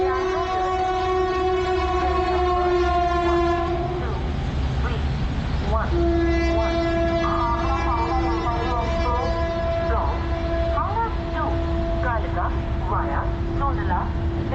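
The Howrah Kalka Express runs along with a steady heavy rumble, while drawn-out horn-like tones ring over it. Brief noises and faint voices come and go above the constant rolling din.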